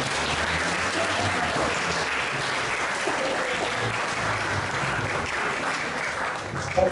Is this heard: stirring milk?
no